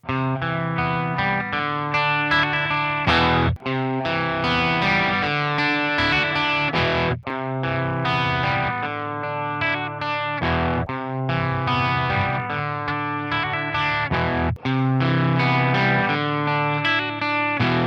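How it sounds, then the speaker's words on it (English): An electric guitar plays sustained clean-tone chords and melodic lines through amp modelers, the tone full and effected, steady and loud with brief pauses between phrases. "here's a sample of all the clean tones we're going to be using on all the modelers and amps"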